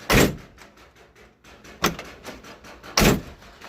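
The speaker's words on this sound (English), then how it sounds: "And it opens." A 1978 Chevrolet Corvette door opening, heard close with three loud sharp clunks of the latch and handle separated by quieter rattling and handling noise.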